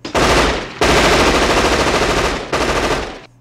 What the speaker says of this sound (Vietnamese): Hai khẩu tiểu liên nổ giòn.